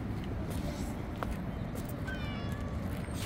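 A cat meows a few times over a dense, steady background hum at a seaside marina mall in Kuwait, the calls fairly close and rising above the noise.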